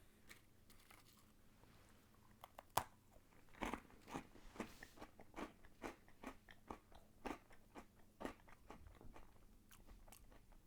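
Crunchy bites and chewing of freeze-dried astronaut ice cream with a chocolate cracker coating, a sharp bite followed by a steady run of close, crisp crunches, with no talking.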